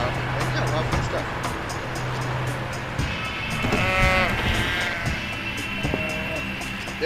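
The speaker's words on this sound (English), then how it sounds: "There are sheep in the road." Sheep bleat in the road in the driving video game Keep Driving, several wavering calls rising over a steady engine hum, with someone talking throughout.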